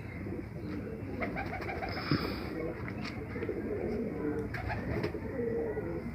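Feeke Baajre pigeons, a flying breed, coo softly and steadily against a continuous low murmur of background noise, with a few faint chirps rising above it.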